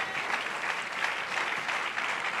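A church congregation breaks into sustained applause, a dense, steady clapping that fills the whole moment without pause and with no voices over it.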